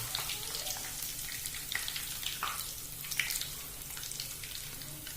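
Whole spices, cumin and mustard seeds sizzling and crackling in hot oil in a home kitchen pan, a steady close frying hiss with scattered pops and no talk.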